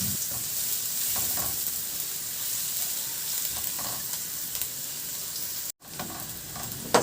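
Garlic sautés in hot cooking oil with a steady, close sizzle and crackle that runs continuously, broken once by a very brief dropout.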